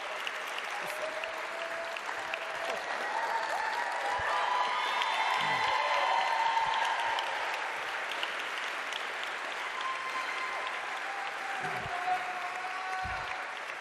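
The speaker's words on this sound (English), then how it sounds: "Let's give them a round of applause" Sustained applause from a town hall audience in Milwaukee, steady and full throughout with a few brief cheers rising within it, no speech over it.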